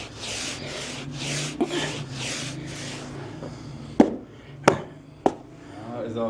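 Hand rubbing and smoothing felt like sandpaper in a traditional felt-maker's workshop in Shiraz, a steady rhythmic rasping in repeated strokes, followed by several sharp knocks and a faint voice.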